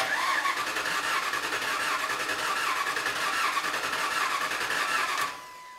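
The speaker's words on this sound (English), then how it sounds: "continue on by attempting to start the vehicle" A 2003-2011 Mercury Grand Marquis engine cranks steadily on the starter without firing because the fuel system has no pressure, a continuous close mechanical churn that stops abruptly near the end.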